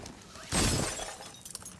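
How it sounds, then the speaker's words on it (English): Glass shatters in Rainbow Six Siege, a single fairly close crash with a bright, scattering tail that fades over about half a second, followed by faint small clinks against quiet background. "someone just broke some glass"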